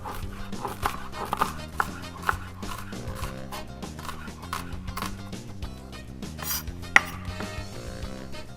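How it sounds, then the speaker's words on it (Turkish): A knife quickly chops onions on a board in close, rapid, irregular taps, with occasional sharper clinks of utensils and a faint background hum, no talk. "hızlı bir şekilde soğanlarımı doğruyorum."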